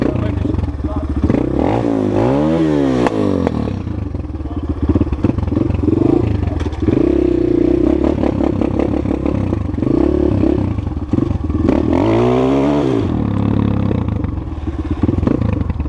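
A Skybike CRDX 250 motorcycle engine runs loud and close, with the throttle blipped into several rising and falling revs over a rough, clattering idle; a voice speaks briefly over it.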